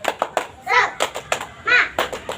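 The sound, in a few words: children doing a rhythmic clapping chant, tepuk semangat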